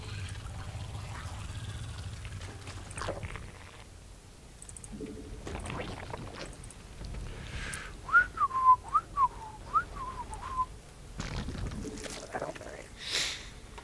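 A person whistles a short wavering tune in several quick notes, close to the microphone, over soft game sounds and noise during a StarCraft 2 match.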